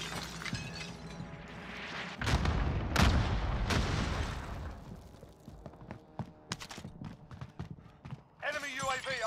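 Bombing-run explosions in Call of Duty Warzone during the end-of-Verdansk event: a cluster of heavy blasts and crackling debris, loudest in the first half, fading into scattered sharp bangs, with voices talking over the game audio.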